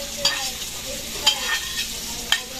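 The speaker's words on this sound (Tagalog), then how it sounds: "Ipag-fry muna ng kaunti. Kasama nitong ating sibuyas at bawang." Carrots, onion and garlic frying in a pan, a steady moderate sizzle with three distinct scraping stirs spaced about a second apart, with no speech.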